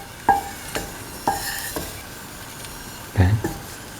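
A spoon scrapes and taps against a pan while fried raisins are scooped out, a few sharp clinks spaced apart and then a heavier clatter near the end, over a faint low sizzle.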